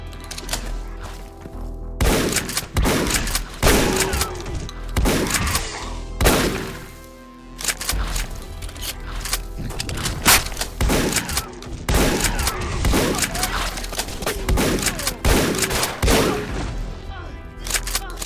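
Submachine gun fire in the game Ashes: Afterglow, loud sharp bursts and single shots with heavy thuds scattered across the clip, some clustered in quick rapid strings, no voices.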